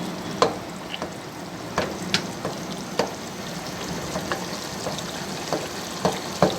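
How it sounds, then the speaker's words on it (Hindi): Tomatoes broken up with a spoon while frying in oil in a karahi for restaurant-style karahi gosht: a steady close sizzle with repeated sharp clicks and taps of the spoon against the pan. "अब इस तरीके से हम टमाटरों को तोड़ देंगे इसके अंदर।"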